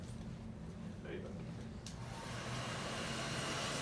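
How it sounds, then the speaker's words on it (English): A heat gun blows hot air over a clay pinch pot, a steady whooshing hum close by that grows a bit louder partway through and runs without pause. "Sorry about the noise. That's the sound of a heat gun."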